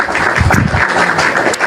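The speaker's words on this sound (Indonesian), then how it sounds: "Tepuk tangan dulu." A studio audience claps briefly, a short, even burst of applause filling the whole moment with no speech over it.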